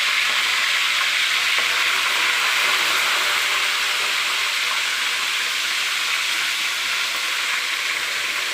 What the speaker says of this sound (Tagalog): ipiprito muna natin siya bago natin siya isahog sa ating munggo.